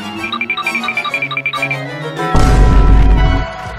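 A missile explosion in the Roblox video game bursts in as a loud, sudden boom with rumbling crash that sustains for about a second after a stretch of rhythmic chiming game tones.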